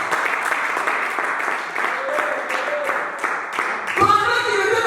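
Church congregation applauding in a steady wash of clapping that runs throughout, with a brief louder swell near the end.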